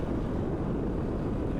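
A Honda CRF450RL dirt bike pulling in third gear with a bit of clutch and throttle, a dense, loud engine roar mixed with wind buffeting, steady throughout.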